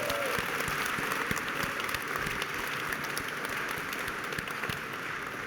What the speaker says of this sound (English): So let's make a round of applause for all of our incredible organizers.